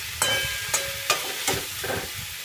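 Spices sautéing in a pan, a steady sizzle broken by five sharp scraping stirs in quick succession.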